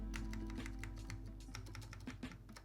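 Steady typing on an ADK64 mechanical keyboard fitted with Plain60 Alps switches and Apple AEKII keycaps, a dense run of close clacking keystrokes with no talk over it.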